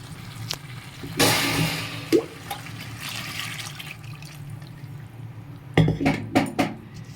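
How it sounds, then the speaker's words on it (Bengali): Water poured into a pan of simmering curry of taro, eggplant and potato in a home kitchen, a brief splashing burst with clinks of utensils and pan, then more clattering stirring near the end. "জলটা দিয়ে দিলাম"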